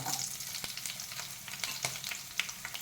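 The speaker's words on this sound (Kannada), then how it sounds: "ಈಗ ಎರಡು ಹಸಿಮೆಣಸನ್ನು ಹೆಚ್ಚಿಕೊಂಡು ಹಾಕುವ" Two chopped green chillies frying in a pan of hot oil while Bombay rava upma is being made, giving a steady close sizzle with scattered crackles and a few sharp stirring clicks.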